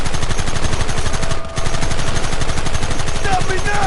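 Rapid, dense machine-gun fire in the Red Dead Redemption video game, a loud continuous rattle with a brief pause before bursts resume, joined by faint voices near the end.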